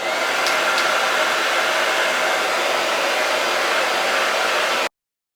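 Hair dryer blowing steadily on chalk paint over a transfer, a loud, close, continuous hiss that runs without change for about five seconds and then cuts off.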